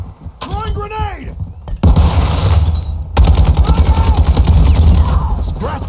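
Automatic rifle fire rattles in loud rapid bursts during a Call of Duty Modern Warfare 2 Kill Confirmed multiplayer match, with game voice callouts spoken over the shooting.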